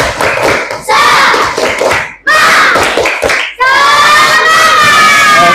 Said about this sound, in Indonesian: Tepuk 1, tepuk 2, tepuk 3. Oke, coba tepuk semangat.